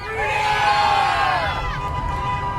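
A roadside crowd at a freedom convoy rally yells and cheers together, a loud sustained mass of overlapping voices and whoops close by, with vehicle noise beneath.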